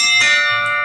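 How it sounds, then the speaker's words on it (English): A single bright bell chime rings out close and clear, its metallic tone sustaining and slowly fading. "That's the doorbell"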